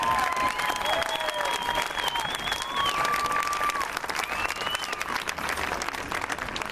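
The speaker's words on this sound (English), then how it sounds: "Please give them a hard round of applause for their work." Audience applause at an Iron Cadets awards ceremony, a dense steady clapping wash filling the room for several seconds, with whistles and cheering voices rising over it.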